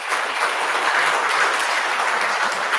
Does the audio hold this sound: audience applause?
yes